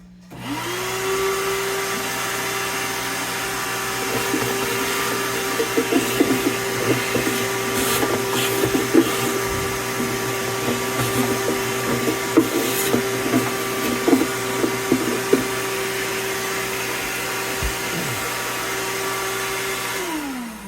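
A $5 mini shop vac bought at a yard sale runs steadily for about twenty seconds, cleaning debris from a vintage Gibson LG-1 acoustic guitar, its motor whine holding even with scattered rattles and clicks of debris being sucked up.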